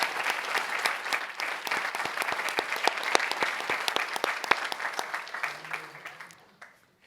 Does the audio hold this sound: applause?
yes